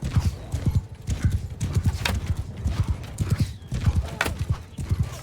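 Galloping horse in Mount & Blade 2: Bannerlord, with a steady drumming of hooves up close and sharp neighs and whinnies breaking through the rhythm.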